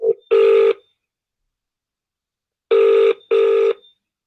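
A telephone rings on an incoming call: one short burst of ringing, a pause of about two seconds, then two more bursts close together, loud and clear with no other sound.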